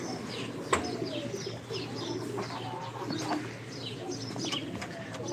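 Old-breed pigeons coo in repeated soft calls over steady background noise, with a sharp knock near the start and occasional chirps; fairly close and continuous.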